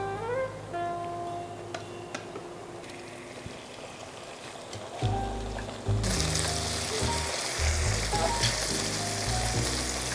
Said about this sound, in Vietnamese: sau khi mà dầu đã nóng thì chúng ta sẽ đổ hỗn hợp sữa và lòng trắng trứng vào để